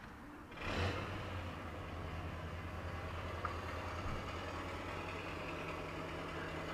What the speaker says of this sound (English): I love the sound of a V8